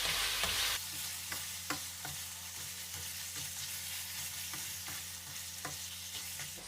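A spoon scrapes and stirs seasoned beef curry in a pot, making repeated knocks against the metal over a soft, steady sizzle, with a louder burst of sizzling at the start.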